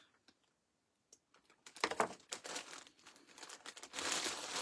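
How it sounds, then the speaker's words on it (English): A paper streamer for a bunny craft is cut and handled, producing quiet scattered crinkles that build into louder continuous rustling and crumpling, close by with no talk. "It's a streamer, but I do not need the whole thing. So I'm just going to cut this off."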